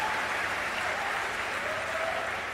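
A large crowd at a Save Soil event in Hyderabad keeps up continuous, even applause, a thick wash of clapping from many people heard at some distance with no talk over it.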